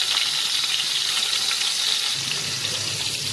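Sarputi fish fry in hot oil with a loud, steady, close sizzle and crackle that holds evenly throughout.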